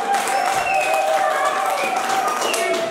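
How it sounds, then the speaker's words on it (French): A crowd at an evening gathering applauds loudly and steadily. Voices and some cheering mix into the sustained clapping from start to finish. "que je vous prie d'applaudir aussi très fort"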